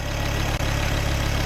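A tuned turbocharged Ford Focus ST (Mk2) engine idles steadily up close, a loud, even mechanical drone with a faint regular pulse and a brief dip partway through.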